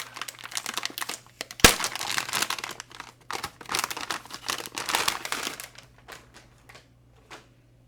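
A Gigabyte GTX 1070 Ti Gaming OC graphics card is pulled from crinkly plastic packaging, producing close, continuous crackling and rustling with one sharp snap early on, fading to sparse crinkles at the end.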